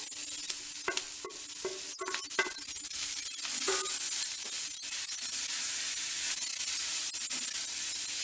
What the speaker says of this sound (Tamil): தேங்காய் பூ ரொம்ப வதங்கணுங்கிற அவசியம் இல்லை